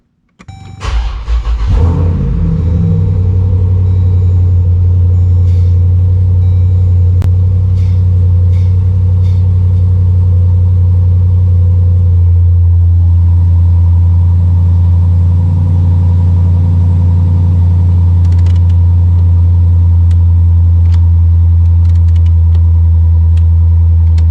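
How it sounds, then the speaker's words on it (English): A car is started after a front and rear brake and parking brake install: the engine cranks and catches with a loud burst, then settles into a steady, close idle rumble that runs on for about twenty seconds. "Now we'll turn the car on."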